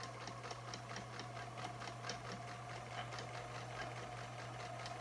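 Vintage sewing machine stitching a headband-style bonnet, a fast, even rhythmic ticking and whir with a steady motor hum, close and continuous.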